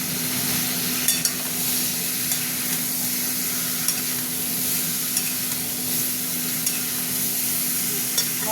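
Spice paste and tomato fry steadily in a pan for a gandal-leaf curry, giving a continuous close sizzle with soft crackles and a low steady hum beneath.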